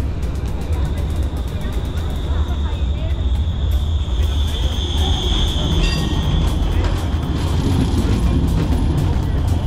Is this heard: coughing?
no